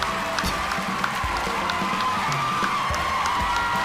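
Live audience at a podcast mock draft taping cheering, whooping and clapping steadily throughout, a dense crowd roar close by with scattered shouts rising above it.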